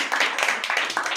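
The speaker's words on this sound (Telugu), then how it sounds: "ప్రసాద్ గారు వస్తుండగా చప్పట్లు కొడుతూ" A church congregation at a Sunday worship service claps in a quick, even burst of several hands, close and fairly loud.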